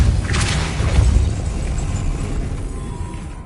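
A Depulso spell blast in the game Hogwarts Legacy, a loud, close booming whoosh at the start that slowly fades away.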